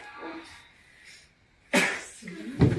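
A single sudden sneeze bursts out close by, followed by a brief rustle or second burst, with quiet room noise and a faint voice before it.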